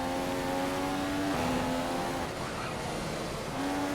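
A rally car in a racing video game accelerating uphill on a Spanish stage, its engine droning loud and continuous with rising and dipping pitch as it climbs, with tire noise underneath.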